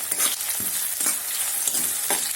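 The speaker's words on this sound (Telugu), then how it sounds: "ఇవి వేసుకొని ఇవి వేగే వరకు ఈ విధంగా తిప్పుకోండి." Lengthwise-sliced onions sizzle in hot oil in a pan for aloo kurma, with rhythmic scraping stirs sweeping through the steady close frying hiss.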